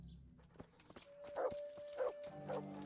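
Three short, quiet barks from a dog in the video game Kingdom Come: Deliverance, evenly spaced, over a faint steady tone and a few soft knocks.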